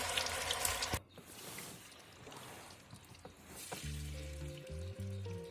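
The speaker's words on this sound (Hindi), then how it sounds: "और बस इसको अब तेल में तलाई करनी है, अच्छी तरह से तेल पकने देना है।" Kofta balls frying in hot oil, a steady crackling sizzle that runs throughout, with a brief loud burst at the start and a low musical tone appearing near the end.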